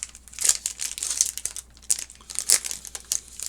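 The foil wrapper of a Star Trek collectible card game booster pack crinkles and tears in close, irregular bursts of sharp crackling, alone with no voices.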